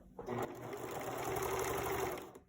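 A home sewing machine runs steadily, stitching a multi-step zigzag over elastic on underwear fabric. The motor hums loud and close for about two seconds, then stops abruptly.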